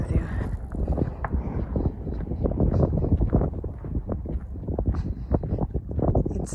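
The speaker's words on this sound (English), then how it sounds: "you probably can't even hear me because it's super windy" Steady, rough wind buffeting the microphone outdoors on a dirt road in Saskatchewan, Canada, with gusty low rumble throughout and no clear voices.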